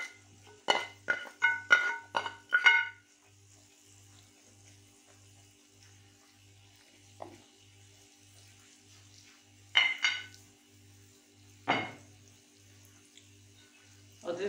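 Ingredients stirred together in a tagine with chopped green pepper for a tuna dish: a quick run of close clattering scrapes, then near silence with a soft low pulsing hum, then two more short bursts of clinking.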